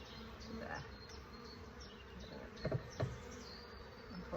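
Honeybees buzz steadily at the hive entrance of an apiary after mouse guards are removed, a faint continuous drone with a few soft knocks of handling.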